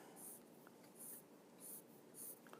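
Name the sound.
drawing a picture on paper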